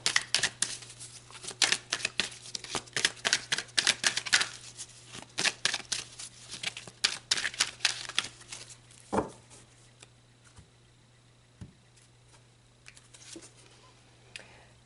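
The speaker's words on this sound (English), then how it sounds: "So let's pull some more cards, Scorpio." Tarot cards are shuffled and pulled by hand, giving dense quick riffling and flicking clicks up close for several seconds, then thinning to a few scattered soft taps and slides.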